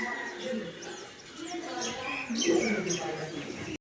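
Pigeons in a farm enclosure coo and chirp in soft, overlapping calls at close range, heard beneath someone talking steadily.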